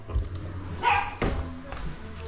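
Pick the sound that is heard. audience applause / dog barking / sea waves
dog barking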